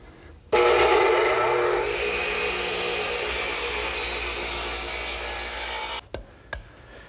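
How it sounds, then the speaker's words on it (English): A radial arm saw set to 18 degrees cuts through 2x8 redwood in one loud, sustained pass of steady whining and rasping. The blade then spins down, followed by a couple of brief clunks. "My radial arm saw has been turned to 18 degrees,"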